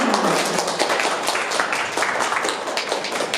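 Dense, steady clapping from a classroom audience, many hands at once, continuing evenly throughout without a break.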